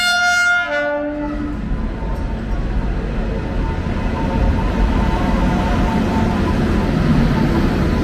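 A train at Araku railway station sounds a loud horn at the start, then a steady heavy rumble of passing rail cars.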